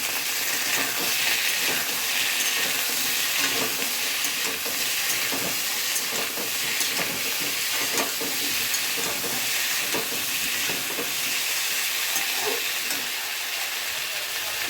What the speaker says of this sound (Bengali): এবার আলুটাকে ভালো করে নেড়ে চেড়ে নেব।